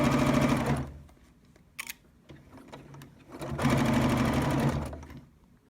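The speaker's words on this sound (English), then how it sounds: "finish sewing 1/4 of an inch around the entire mask" A sewing machine stitches around a fabric face mask in two loud, steady running bursts, each a dense rapid whir, with a quieter pause between them holding light handling clicks.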